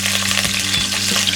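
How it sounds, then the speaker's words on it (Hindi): Finely chopped green chillies dropped into hot oil, giving a loud, dense sizzle that holds steady through the short moment. "तेल गरम हो गया। अब हम इसमें डालेंगे 2 ग्रीन चिलीज फाइनली चॉप्ड"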